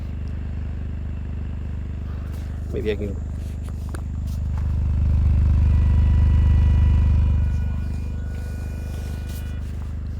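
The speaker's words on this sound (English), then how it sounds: "of course you can hear the hum, the nice low purr of the engine right now" Low steady hum of an idling 2023 Toyota GR Corolla engine, heard up close as a deep drone that swells louder for a few seconds midway before settling back, with a brief spoken remark and a short knock.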